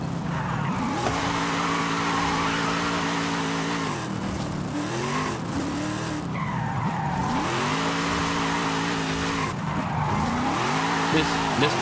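A Corvette drifting in Forza Horizon 5 roars through repeated slides, its engine note climbing and dropping as tires squeal in several loud, close waves separated by brief throttle lifts.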